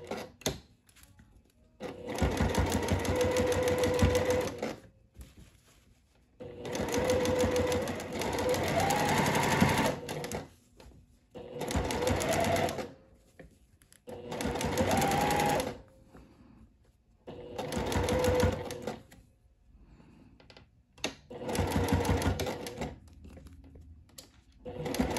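A sewing machine stitches the neckline of a floral sundress in six separate runs of a few seconds each, with short pauses between them, close and steady.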